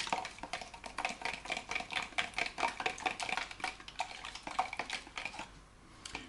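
A spoon stirs energy gel ingredients, syrups among them, in a kitchen bowl. It gives a quick, even run of light clinks and taps against the container for several seconds, close up and unaccompanied by speech.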